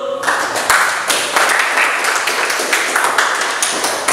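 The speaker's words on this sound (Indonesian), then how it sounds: "Beri tepuk tangan dulu." A classroom of students applauds together, a steady dense patter of many hands clapping for about four seconds at close range, with faint voices mixed in.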